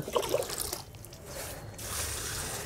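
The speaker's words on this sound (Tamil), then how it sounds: "இந்த மாதிரி எல்லா செடிகளுக்கும் நான் வந்து இந்த தண்ணியை ஃபுல்லாக வந்து ஊற்றிக்கிறேன்" Water from rinsing fish being poured over garden plants, a soft continuous trickle and splash close by, steady and moderately quiet throughout.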